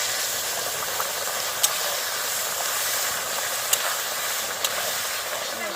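A loud, steady hiss of steam as water is poured onto fried dal in a hot pan, with a few faint clicks breaking through the continuous rush.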